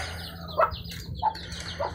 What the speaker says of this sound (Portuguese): gravar a galinha aqui, ó. Os pintinhos que nasceu.